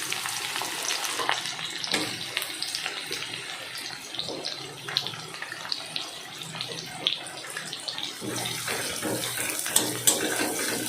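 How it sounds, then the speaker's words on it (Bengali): Chopped onion dropped into hot oil and fried, a continuous loud hiss and sizzle with faint crackle throughout, close by, with no talking. "পেঁয়াজটা লাল করে ভেজে নেব"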